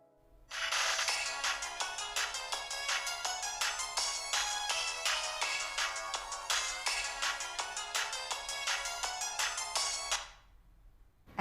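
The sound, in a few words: phone ringing tone while calling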